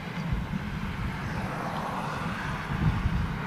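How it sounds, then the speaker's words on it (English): A C-17 Globemaster passes overhead at RAF Fairford, a steady low jet roar with wind buffeting the microphone, unbroken for the whole stretch. "Globemaster over the top"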